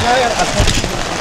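Rain falls steadily around someone walking outdoors in a downpour, a close, dense wash of patter and splashing that fills the whole short stretch.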